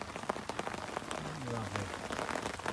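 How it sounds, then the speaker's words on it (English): Heavy rain pelts surfaces at a carp fishing lake in summer, a dense patter of drops with sharper close hits, steady throughout, while a faint voice murmurs underneath. "It's very wet on the park. Absolutely raining cats and dogs."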